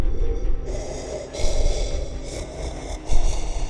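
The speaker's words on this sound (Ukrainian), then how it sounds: "Потвора глибоко дихала, немов вона щойно пробігла марафон." A monster's heavy breathing, rendered as a sound effect for a horror story, comes as slow rasping snorts and gasps with a few sharper exhales, close and fairly loud, with no talk over it.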